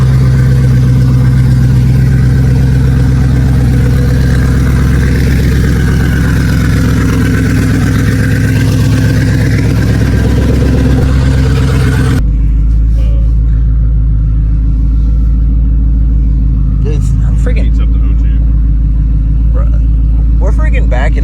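A Ford F150 with a twin-turbo second-generation Coyote V8 idles with a deep, steady rumble close by, its tone dropping and thinning about halfway through, with brief voices over the idle near the end.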